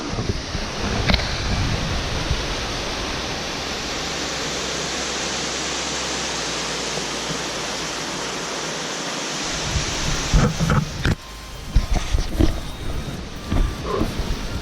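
Waterfalls roar in a constant heavy rush of water, loud and close, with a few brief knocks near the end.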